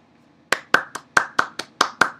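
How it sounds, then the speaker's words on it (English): A single person claps nine times in an even, fairly quick rhythm after a brief quiet start, each clap sharp, close and distinct. "Round of applause, people."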